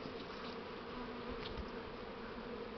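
A swarm of honeybees, a first swarm being hived, buzzing in a continuous close drone with no voices.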